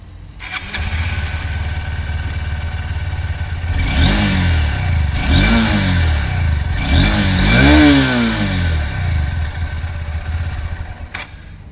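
A Honda CB200X motorcycle with a short barrel exhaust idles steadily up close, then is blipped through four quick rising revs that drop back to a smooth idle, loud with no talking.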